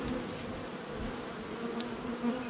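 Bees buzzing steadily around an open horizontal beehive, a continuous close, even hum of many insects with no talking.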